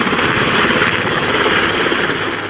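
A military helicopter roars over open sea during a US Marines drill, its dense, steady rotor and engine noise loud and close, filling the whole stretch without pause.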